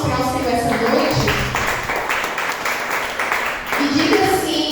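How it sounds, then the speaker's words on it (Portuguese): A church congregation gives a round of applause to the Lord, with clapping rising under singing and musical tones, steady and fairly loud throughout. "Dê uma salva de palmas para o Senhor essa noite."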